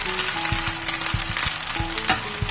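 A rice and drumstick leaf adai flipped over on a hot pan, sizzling steadily up close with a series of soft rhythmic taps and scrapes from the spatula.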